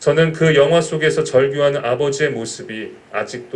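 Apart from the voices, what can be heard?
No everyday noises stand out.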